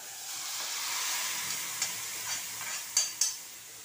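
Chakwat leafy greens drop into hot oil with reddened garlic, giving a faint, airy hiss with a few brief crackling spits near the end.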